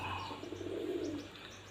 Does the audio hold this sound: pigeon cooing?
yes